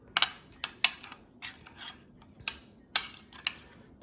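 A spoon stirring carne asada marinade in a small pan, giving a series of sharp, close metallic clinks and scrapes at an uneven rhythm with soft swishing between them.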